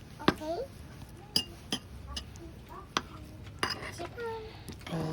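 Mung beans stirred with milk powder and sugar in a bowl: a spoon clinks and taps against the dish in scattered strikes, fairly close, with faint background voices.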